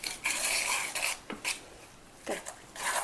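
Henna hair-dye paste being stirred in a bowl, with repeated scraping and rubbing strokes of a spoon against the bowl in uneven bursts, close and fairly clear.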